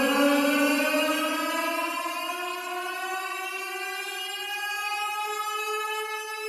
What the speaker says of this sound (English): An air raid siren.